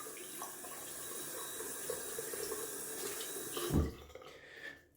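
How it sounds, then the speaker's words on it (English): Tap water runs steadily into a sink during a wet shave, a continuous soft hiss with a brief splashing surge near the end, faint and close with no voices. "Let's add some cold water to the face."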